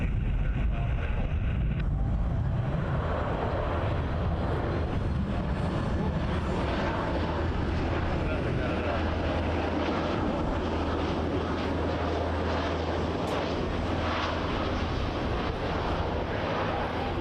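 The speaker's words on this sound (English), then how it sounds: "WestJet 35 from Dublin on a MAX 8." A WestJet Boeing 737 MAX 8 arrives from Dublin on runway 24L at Toronto Pearson, its engines a loud, steady roar for the whole stretch, with broadband wind-like rumble and no talking.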